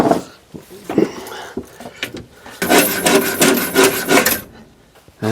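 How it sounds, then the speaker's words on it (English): A hacksaw rasps back and forth through a rusted line under a 1964 Chevrolet pickup, starting as irregular scrapes and then settling into a faster, louder run of strokes before stopping. "Yeah, let's go with the hacksaw."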